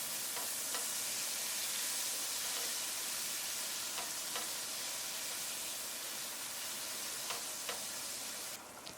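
Tamarind paste is stirred into a Bengali mustard tangra fish curry in a pot, making a faint, even simmering hiss with a handful of quiet spoon taps scattered through, and no voices.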